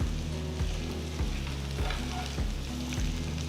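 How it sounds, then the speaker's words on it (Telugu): Taro root pieces with crushed garlic fry over a medium flame in a pan, giving a steady, close sizzle with regular stirring scrapes roughly every half second. "పొయ్యిని మీడియం ఫ్లేమ్లో ఉంచి వీటిని మంచి గోల్డెన్ బ్రౌన్ రంగులోకి వచ్చేంత వరకు వేయించాలి"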